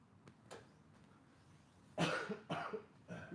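A few sharp coughs burst out close by, a faint one early and then three louder ones in quick succession, set during a grappling lesson on reverse knee-on-belly submissions.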